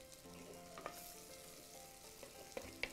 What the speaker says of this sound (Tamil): கத்திரிக்காய் ஆட் பண்ணி அது ஒரு 2 நிமிஷம் வதங்குற அளவுக்கு வெயிட் பண்ணுவோம்